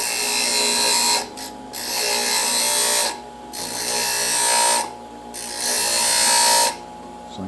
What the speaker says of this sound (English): I can create a new section by using this grinding side here.